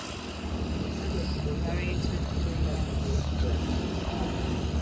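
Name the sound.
small propeller aircraft landing at Santa Monica airport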